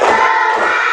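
A classroom of children clapping together on a teacher's command, a loud, dense burst of hand claps over about a second with faint shouting mixed in.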